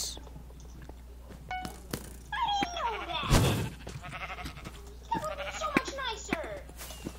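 Sheep bleating in the video game Minecraft on the Mineplex server, several short bleats heard mid-clip under game effects while players talk over it.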